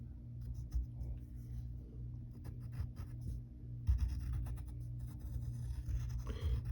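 Pencil drawing fur and paw lines of a cartoon cat on paper, soft scratchy strokes in a steady run over a low constant hum, fairly faint and close, no talk.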